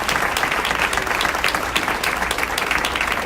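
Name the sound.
audience applause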